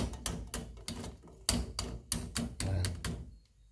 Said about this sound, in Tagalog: Patuloy atin po yung basagin ganyan.